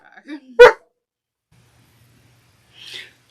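A puppy gives a single sharp, loud bark near the start, followed by silence and a faint, short snort or breath near the end.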